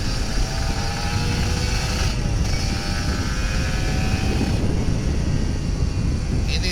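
An old Kawasaki Ninja RR 150 two-stroke motorcycle engine drones loudly and continuously nearby with a rough, buzzing tone, holding fairly steady revs throughout.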